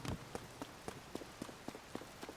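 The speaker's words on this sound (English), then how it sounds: "Oh, and it looks like it's always raining here." Steady rain patters in a video game scene, a soft continuous wash broken by regular light thumps like footsteps running through it, fairly quiet throughout.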